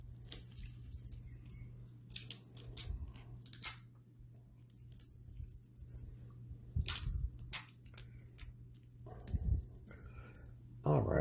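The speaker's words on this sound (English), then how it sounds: "And let's tape it down." Tape pulled and pressed onto fabric for an embroidered snowflake purse, heard as close, scattered crinkles, rips and taps under a low steady hum, with soft talk in between.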